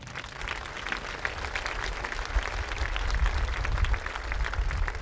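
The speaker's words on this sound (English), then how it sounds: "Can we give them a round of applause?" An audience at a high school commencement applauds the school board of education: dense, sustained clapping from a large crowd, growing slightly louder over several seconds, with low rumble beneath and no talking.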